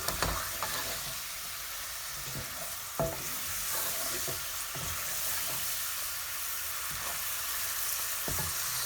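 Spices for chicken and potato korma fry in a pan with a steady, soft sizzle, punctuated every second or so by scraping strokes of a stirring spoon.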